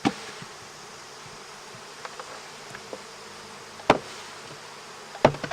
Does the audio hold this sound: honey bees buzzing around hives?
yes